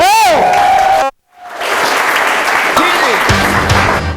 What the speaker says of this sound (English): Can I have a big applause?